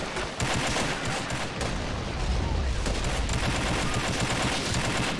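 Dense, continuous gunfire and artillery booms from an Army Men video game mountain battle between heavy infantry and blue commandos, loud and sustained throughout with rapid overlapping shots.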